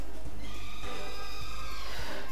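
A horse in Minecraft whinnies over a low, steady background hum, its call rising and wavering for about two seconds with faint thuds underneath.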